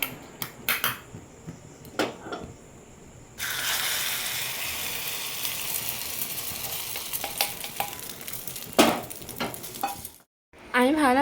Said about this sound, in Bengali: আজকে ভেবেছি এতে আমি এই শেপে ডিম ভাজবো